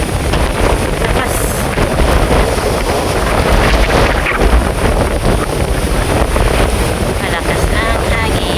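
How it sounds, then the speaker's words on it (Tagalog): Strong wind blows by rough, high water under an overcast sky, buffeting the microphone with a loud, continuous roar and rushing gusts, while a voice may be faintly heard beneath it. "Malakas ang hangin."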